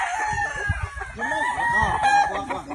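Gamefowl roosters crow and cluck at a game farm in Tabogon, Cebu, several birds calling at moderate distance with overlapping crows and a brief murmur of voices in the background.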